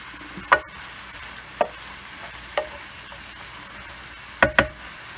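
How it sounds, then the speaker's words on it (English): Carrots stir-fry for bihon rice noodles in a pan, a soft steady sizzle broken by a handful of sharp scrapes and clanks from the stirring utensil, with no one talking. "just stir fry till ma-soften siya ang carrots"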